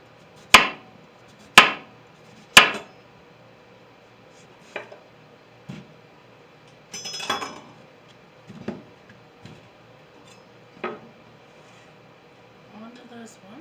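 A kitchen knife cuts into a whole pumpkin: three sharp, loud chops open the sequence, followed by quieter, scattered cuts and scraping through the flesh.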